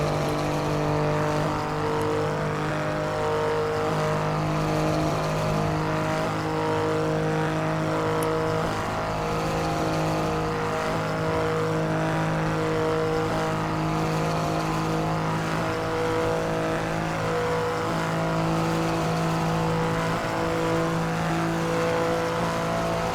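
Alfa Romeo Giulia Quadrifoglio engine in the Assetto Corsa racing game, a loud sustained high-revving drone with steady harmonic tones that shift slightly in pitch as it holds at speed, continuous and alone without talk.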